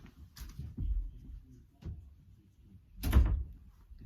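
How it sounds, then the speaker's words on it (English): A bedroom door is shut, giving a few soft thuds and bumps followed by one firmer, fuller thunk near the end, close by and fairly quiet, with no talking. "just had to shut my door"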